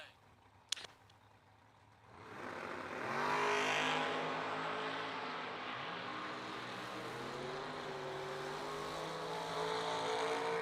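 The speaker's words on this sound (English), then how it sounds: "T-Rock in the overkill special dials, 557, 581 for the small tire Mustang" Small-tire Mustang drag racing cars launch and roar down the strip at a drag race, a sharp pop near the start followed by loud, sustained engine noise with rising harmonic tones as the cars accelerate.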